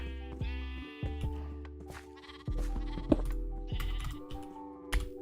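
Sheep in a survival video game bleat over and over, several loud overlapping calls close by, over a steady low game-music or ambient drone.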